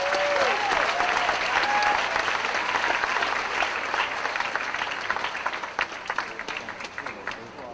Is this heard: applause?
yes